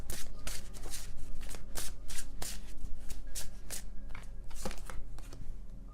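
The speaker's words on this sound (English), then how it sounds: "I don't look at the deck while I shuffle." A deck of tarot cards is shuffled by hand in quick, steady riffling bursts, a continuous run of crisp papery flutters close to the microphone with no talking.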